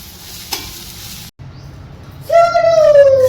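Kanda pohe, flattened rice with onion, is stirred and fried in a pan, a soft sizzle with a brief scrape, then a voice starts talking loudly over the cooking.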